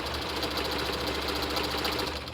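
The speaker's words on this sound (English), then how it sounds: "I am using a zigzag stitch for this just because this spot has a tendency to pull apart with regular stitches." A sewing machine runs a zigzag stitch along elastic sleeves of a homemade clown lolita dress, giving a steady, continuous mechanical whir and buzz from start to finish.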